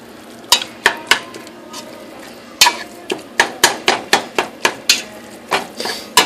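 Meat browning in a pan for chili, with a steady low sizzle under a run of sharp, loud spatula clacks and knocks against the pan, coming in quick irregular bursts.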